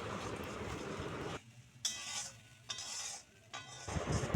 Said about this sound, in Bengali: সমস্ত মশলাটাকে ভালোভাবে কষিয়ে নিচ্ছি।